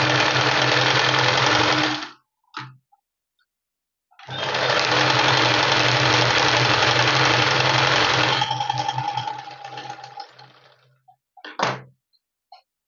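Sewing machine stitching a cross strip onto a blouse, two loud steady runs of fast mechanical stitching separated by a pause, each ending with brief clicks and thumps of the handwheel.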